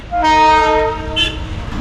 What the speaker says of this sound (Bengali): তলা দিয়ে যাচ্ছে টয় ট্রেন, দার্জিলিংয়ের বিখ্যাত টয় ট্রেন